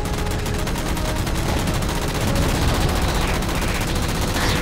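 Dense, continuous automatic gunfire in Halo 4 as a Mantis shoots down jammers, loud rapid bursts with heavy low rumble running without a break.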